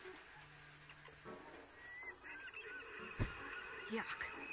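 Birds in the VR game Ghost Giant honk and squawk in short, goose-like calls over a quiet farm scene with faint chirps and a brief thump.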